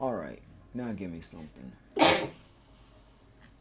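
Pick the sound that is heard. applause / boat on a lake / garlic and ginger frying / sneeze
sneeze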